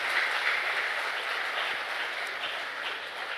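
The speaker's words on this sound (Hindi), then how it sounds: "तो चंद्रिका दीदी का हम भरपूर तालियों से स्वागत और अभिनंदन करते हैं।" Hall audience at a retreat centre in Delhi-NCR applauds to welcome a youth-wing coordinator, producing a continuous, even wash of many hands clapping at moderate volume throughout.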